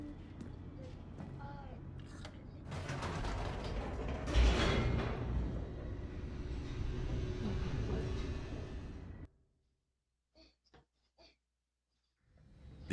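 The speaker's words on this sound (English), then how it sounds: "The elevator raced downward," A descending elevator in The Stanley Parable, a dense rumbling, clattering mechanical roar that swells and churns steadily for about nine seconds, then cuts off abruptly, leaving near silence broken by a few faint clicks.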